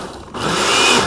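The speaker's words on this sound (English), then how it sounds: "we're going to hit this in the blender" A regular kitchen blender pulsing a sauce for chicken wings, a steady loud whirring motor that rises after a brief quieter start and holds close and continuous.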